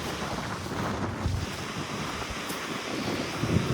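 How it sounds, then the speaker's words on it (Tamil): Sea waves breaking on a beach at Mangalore, a steady broad wash of surf mixed with heavy wind buffeting the microphone, continuous and fairly loud with no voices. "பீச், கடல், நம்மளது கடல்."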